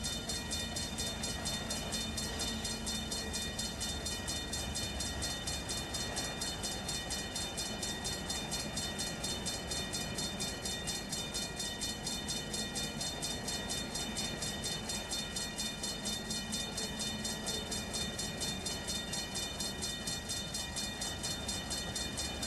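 A freight supply train rolls along in the Run 8 train simulator, a steady mechanical drone with a fast, regular rhythmic clatter that continues evenly and unbroken, close and moderate in level.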